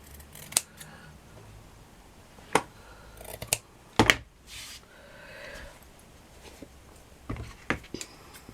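Scissors snip fabric for a handmade flower wall plaque, giving sharp, isolated cuts spaced irregularly a few seconds apart, close and fairly crisp over a quiet room.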